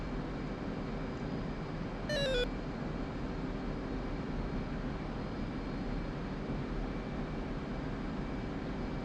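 Jet engine at full military power in a flight combat game, a steady broadband roar throughout with a brief rising electronic chirp partway through.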